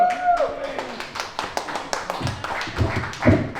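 An audience at a club night in a Glasgow bar claps in a run of sharp, fairly even hand claps that swell louder toward the end, with voices calling out beneath them.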